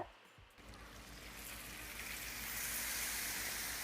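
Cool syrup hits hot oven-baked baklava fresh from the oven with a close, steady sizzle that swells after a brief handling noise at the start and grows brighter and louder toward the end.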